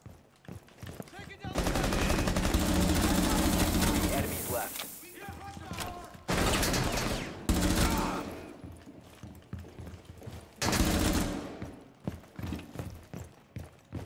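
Bursts of MP5 submachine gun fire in Rainbow Six Siege, three long loud automatic strings separated by short pauses, with a few scattered single shots and quieter gameplay noise between them.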